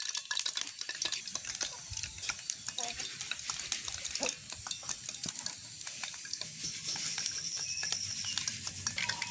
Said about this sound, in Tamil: எண்ணெய் நல்லா கொதிக்கும். சத்தம் இருக்குது.